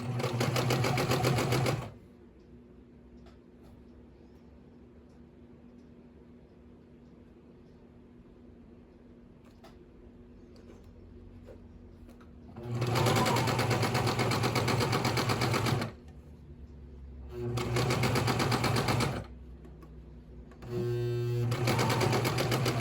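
A sewing machine stitching a purse runs in loud, steady mechanical bursts: one short run at the start, then after a long quiet stretch three longer runs separated by brief pauses.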